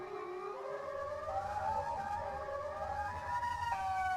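A loud, rising and falling siren wail with layered tones from the Siren Head horror game creature sounds continuously, alone without any talking.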